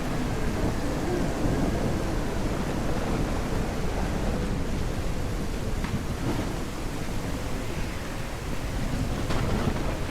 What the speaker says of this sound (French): La tempête, la tempête!